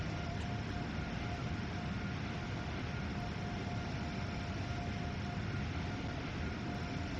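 Steady rumbling drone of an Acela tilting train running at speed in Train Sim World 4, a continuous broadband roar with a faint sustained tone, unbroken and even throughout.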